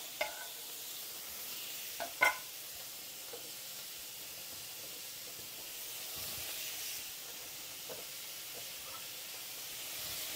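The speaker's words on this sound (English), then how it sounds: "straight away I go in with the tomatoes" Tomatoes tipped into a hot pan for prawn and tomato bucatini, giving a steady, moderate sizzle and hiss with a few sharp clatters of stirring near the start, no talking.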